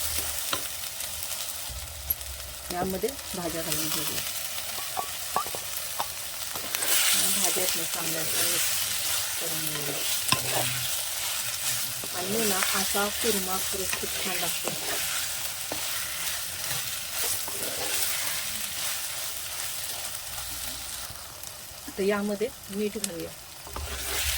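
Spices mixed with homemade red chili powder roast in a pan over a wood-fired village stove, giving a continuous frying sizzle and repeated scraping stirs that come and go across a long stretch, close up, with brief speech at times.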